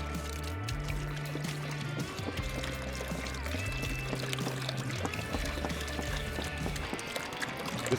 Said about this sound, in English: So you're just gonna want to pour this whole thing in.